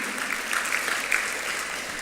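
An audience at a Jamaica Social Investment Fund event gives a short burst of steady, moderately loud applause.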